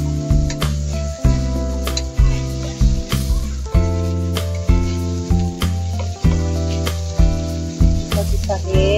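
Garlic, ginger and onion sizzle in a hot pan for a Filipino fish-and-egg dish, while steady music-like tonal bands and regular rhythmic pulses run loud throughout.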